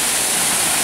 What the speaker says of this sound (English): I like waterfalls.